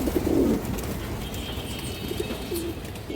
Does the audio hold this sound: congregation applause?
no